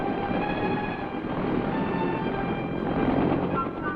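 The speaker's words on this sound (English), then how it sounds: "The Huey takes off like an angry hornet." A Huey helicopter lifts off for a Vietnam combat mission with a steady, dense engine and rotor roar that stays loud and unbroken throughout.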